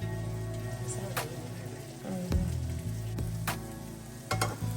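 Salmon fillets frying in butter in a pan, a steady close sizzle with a few clatters and scrapes as the fish is turned, under a low background hum.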